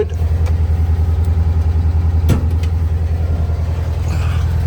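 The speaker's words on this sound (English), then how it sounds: "It's a 1600 motor." A 1964 Volkswagen Beetle with a 1600 engine idles steadily and loud, a low, even air-cooled rumble holding throughout with no talk over it.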